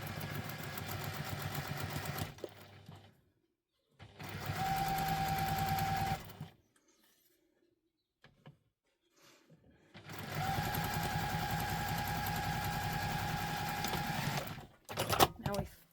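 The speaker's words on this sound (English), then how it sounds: "I'm going to stitch that with the seam allowance stated in the pattern" A sewing machine stitches the seam of a Quinn wallet in three separate bursts, each a steady, close mechanical whir lasting a few seconds, with quiet pauses between.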